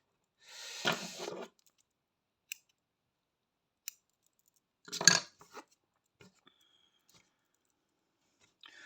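Scissors snip during cross-stitch work, giving a couple of quick cuts and small isolated clicks in an otherwise quiet room.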